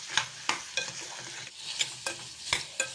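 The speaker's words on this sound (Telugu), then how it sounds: "ఈ విధంగా దోరగా వేయించుకుందాం. దోరగా వేయించుకోవాలి ఫ్రెండ్స్." Carrot and radish pieces fry in a pan, a steady close sizzle broken by sharp scraping stirs roughly every half second to second.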